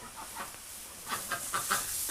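Chickens cluck softly in a backyard coop, several short clucks coming in quick bursts over a steady faint background hiss, with no voices present.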